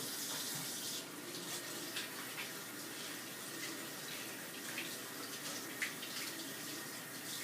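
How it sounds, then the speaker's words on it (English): Tap running into a kitchen sink while hands are washed, a steady soft hiss of flowing water with faint splashes, quiet and continuous throughout. "So wash hands."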